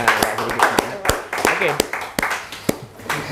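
A small audience claps hands in scattered, uneven bursts, close and fairly loud, while voices talk over the clapping.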